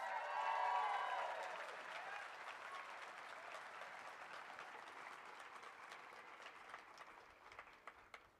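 Audience applause fills a university law school hooding ceremony, loudest in the opening second and then settling into steady, sustained clapping across the room that fades slightly toward the end.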